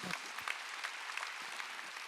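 A congregation applauds during a Sunday worship sermon at a Korean church, a soft, continuous patter of many hands clapping heard from some distance, with a few louder thumps near the start.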